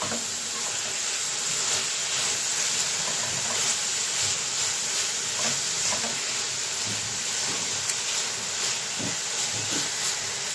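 Potato mixture with ground black pepper stirred in a pan for a sandwich filling, giving a continuous close sizzling hiss with faint scraping strokes.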